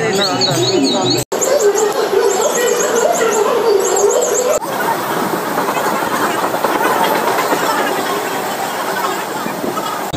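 A Mumbai local train runs along the rails, its steady, loud rumble and rattle continuous after a brief break in the first seconds, with faint chirps and voices mixed into the din.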